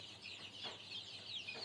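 Young native (deshi) chicken chicks, about seven to ten days old, kept in a rooftop flock of around 150, give faint, continuous high cheeping and soft clucks close by, with no talk.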